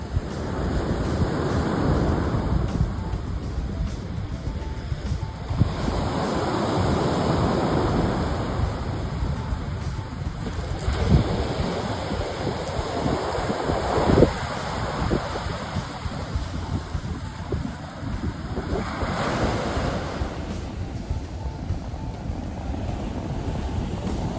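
Surf rolls in steadily with repeated surges of crashing waves on the northern Italian coast in late September, while gusting wind buffets the microphone in a continuous roar.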